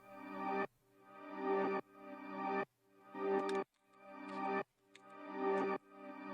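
Quanta 2 granular synthesizer playing a simple repeating pattern: five sustained, swelling harmonic notes, each rising in loudness then cutting off sharply, with short gaps between them, clear and alone.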